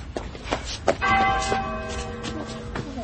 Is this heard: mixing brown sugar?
no